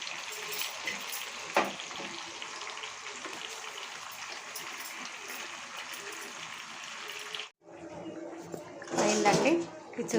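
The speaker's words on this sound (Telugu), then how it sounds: "ఆయిల్లో వేసుకొని కొంచెం ఫ్రై చేసుకోవాలి." Marinated chicken for chicken dum biryani fries in hot oil, a steady close sizzle hissing for several seconds, then breaking off briefly before a burst of louder crackling and stirring; a voice talks over it.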